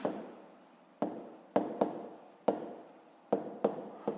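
A pen writes on paper while a fifth-grade maths exercise is worked out, giving a handful of quiet, close, scratchy strokes with sharp starts and short pauses between them. No one speaks.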